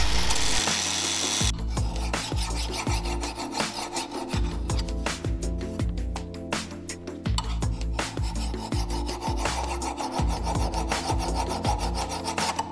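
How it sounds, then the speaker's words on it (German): A Damascus steel knife blade is shaped with an angle grinder, belt sander and files, heard as steady rhythmic rasping strokes of metal filing, close and continuous, after a brief opening burst of grinding. "Bei den nächsten Arbeitsschritten wird mit Winkelschleifer, Bandschleifer, Feilen die Kontur des Messers aus dem Damast rausgearbeitet."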